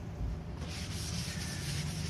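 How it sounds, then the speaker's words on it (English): Sandpaper works over wood ceiling panels inside a camper between coats of clear water-based semi-gloss finish, producing a close, continuous, rough rasping scrub with a steady back-and-forth rhythm. "Quick sand again before the last coat."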